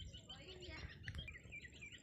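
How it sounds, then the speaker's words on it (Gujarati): Birds chirp and tweet faintly in a rural farm setting during rainy weather, with short high calls over a quiet, murky background. "પંખીડા બોલે હો"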